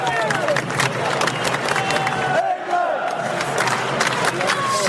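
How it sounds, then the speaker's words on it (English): A large football stadium crowd at the City Ground applauds and cheers continuously, a dense wall of clapping and voices with shouts rising throughout. "the City Ground applauds"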